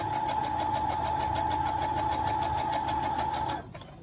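A sewing machine runs steadily, stitching jelly roll fabric strips with a quarter-inch seam for a jelly roll race quilt. The rapid, even needle rhythm hums loud and close for several seconds, then stops abruptly.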